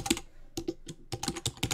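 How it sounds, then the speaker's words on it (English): Fingers type on a computer keyboard in a word-processing program, tapping out quick, close, clattering bursts of keystrokes separated by brief pauses. "I'm going to type in"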